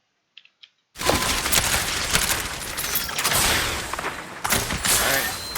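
Rapid bursts of gunfire from an Overwatch match, loud and dense, with a couple of faint clicks before a sudden onset of sustained shooting and impacts that briefly dips near the end before resuming.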